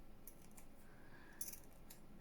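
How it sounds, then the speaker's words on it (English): Scissors snipping scrap paper for a junk journal craft: a few quiet, crisp cuts close by in a hushed room, with no talking. "Let me just cut that. Oh, these scissors."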